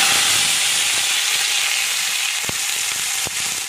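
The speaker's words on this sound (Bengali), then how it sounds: "পেঁয়াজটা ভালো করে ভাজা হয়ে গেছে" Chopped onions and green chillies fry in hot oil, giving a steady loud sizzle with a bright hissing wash that runs throughout, broken by two brief sharp clicks near the end.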